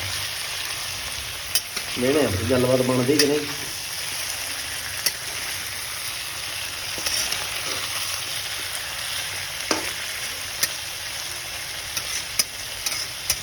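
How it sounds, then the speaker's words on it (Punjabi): Cauliflower frying in plenty of oil for a sabzi makes a steady, loud sizzle that fills the whole stretch, punctuated by occasional clicks and scrapes, with a brief stretch of talking early on. "ਬਾਕੀ ਹੁਣ ਇਹਨੂੰ ਆਪਾਂ ਫਰਾਈ ਹੋਣ ਦਿੰਦੇ ਹਾਂ"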